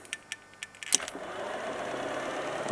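A BMW electric vehicle conversion with its drivetrain running in reverse: a few soft clicks, then a steady low whir and hum that carries on close by.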